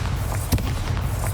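Bombarda spell blasts in Hogwarts Legacy, two sharp booming impacts over a loud, steady low rumble of combat sound, close and punchy.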